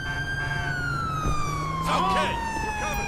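A police car siren wails continuously in GTA 5, its pitch sliding steadily downward, with fainter yelping sweeps and speech rising over it partway through.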